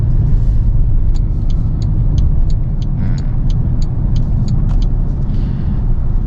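Steady low road roar and tire rumble from a Maxus 9 car moving at speed, with a faint regular ticking above the noise.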